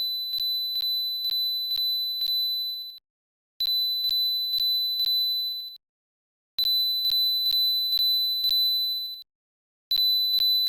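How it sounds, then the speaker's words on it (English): A thin, piercing electronic tone like tinnitus rings in repeated bursts of about three seconds with short silent gaps between them, steady and fairly quiet with no one speaking. "If I could set that, like, tinnitus sound as my phone's alarm, it would be really effective."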